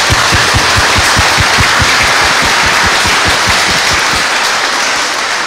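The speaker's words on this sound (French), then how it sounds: "d'applaudir le Seigneur" A church congregation at Sunday Mass claps loudly in unison, a rhythmic, fast, evenly spaced beat of hand claps over broad crowd noise, continuous and close.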